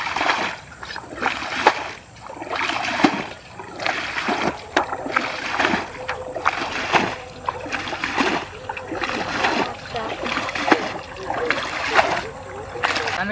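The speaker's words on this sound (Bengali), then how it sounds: "আমি সব জল ছিটে দিচ্ছি।" Water splashing and splattering in repeated bursts while wading through shallow water in search of shol and latha fish, with a steady rhythm of sloshing strokes, close and fairly loud, with some trickling between.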